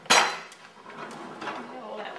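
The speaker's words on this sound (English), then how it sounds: "Open the drawers, please, Jane." A sharp clatter of cutlery and dishes as a drawer is pulled open, followed by lighter rattling and clinks.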